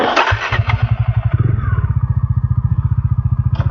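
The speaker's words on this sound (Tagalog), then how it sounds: "tumirik na yung motor natin." A motorcycle engine roars briefly, then drops into a loud, steady, rhythmic putt-putt idle close by.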